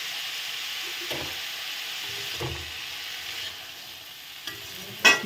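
Chopped tomato, onion and a whole green chili fry in a pan with a steady, close sizzle, broken by a few stirring scrapes and a sharper clack near the end.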